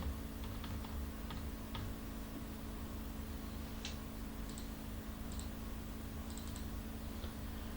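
Faint, sparse keystrokes on a computer keyboard, a few scattered taps and clicks over a quiet electrical hum.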